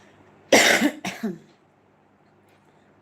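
Two harsh coughs in quick succession, close and loud, followed by quiet.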